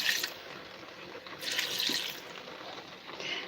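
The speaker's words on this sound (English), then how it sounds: "I'm just going to put a little bit more of this mushroom sauce in," Mushroom soaking water poured into a stir fry in a pan, a soft continuous liquid splash and sizzle running through the whole stretch with a couple of brief swells, close by and with no talk.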